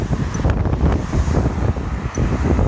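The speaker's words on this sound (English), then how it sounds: "Woo, it's windy." Wind gusts hard across the microphone on an outdoor countryside loop walk, a loud, rough, rumbling buffeting that swells and dips without pause.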